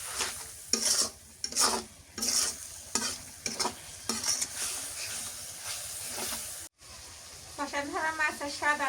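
Spices and onion paste for a fish curry sizzle in a pan while a spatula scrapes and stirs in repeated bursts, with a steady frying hiss underneath and a brief pause near the end.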